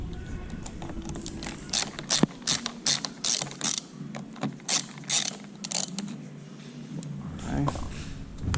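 Screws are driven out of the window trim on a 2020 Kia Telluride with a screwdriver, giving short bursts of ratcheting clicks. Someone talks close by between the turns.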